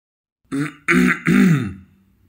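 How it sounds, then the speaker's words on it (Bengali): Someone clears their throat three times in quick succession with rough, gravelly coughs, close by and fairly loud, trailing off into a quiet grunt. "কেশে গলা পরিষ্কার করে"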